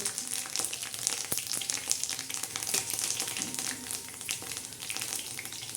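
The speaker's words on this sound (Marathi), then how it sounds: "आता हा कढीपत्ता टाकला ना आता आपण कढीपत्ता टाकलेला आहे" Curry leaves frying in hot oil in a cast-iron kadhai, a close, steady crackling sizzle with scattered sharp pops and faint stirring, no voices.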